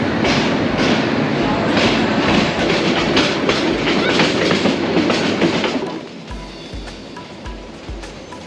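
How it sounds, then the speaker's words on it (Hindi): Bangladeshi intercity express train on the Dhaka to Sylhet run, a loud steady rumble of wheels and carriage noise with rhythmic clickety-clack, heard from inside the train and easing slightly toward the end. "इस ट्रेन का नाम है जॉइंट का एक्सप्रेस, ढाका टू सिलेट।"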